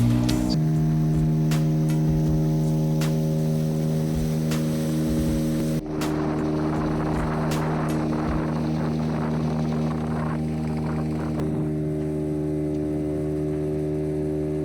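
A fiber boat's motor drones steadily and loudly on a run toward the mangrove forest between Baratang and the limestone caves in the Andaman Islands, with wind and water noise growing after a brief break.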